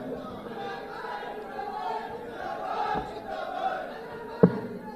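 A large crowd at a political rally in Lucknow chatters and murmurs in a dense, continuous hubbub, with a few scattered shouts and one sharp knock near the end.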